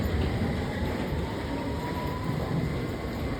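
Commuter train in a city, a continuous broad rumble of cars and wheels rolling on rails throughout, fairly steady and moderately loud with no clear talk.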